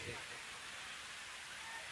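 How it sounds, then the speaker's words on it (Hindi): Heavy rain pours steadily during an outdoor sermon or announcement setting, a continuous broadband hiss holding at a constant level for the whole stretch with no pauses. "बारिश अपने शबाब पर है"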